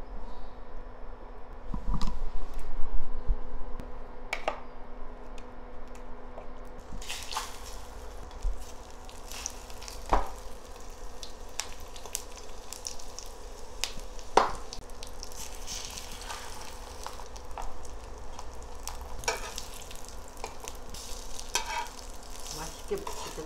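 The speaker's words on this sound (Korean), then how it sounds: "이것만 우선 부칠게." Korean pollock jeon, battered fish fillets, pan-frying in oil, giving a steady low sizzle with occasional stirring and scraping clicks from a nearby pan, with no talk.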